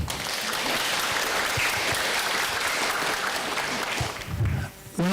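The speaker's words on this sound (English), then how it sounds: "Grade 5, can we give our mums and dads a big round of applause?" A Grade 5 class gives parents a round of applause at a school transition ceremony: dense, loud clapping fills the room continuously before dropping away abruptly near the end.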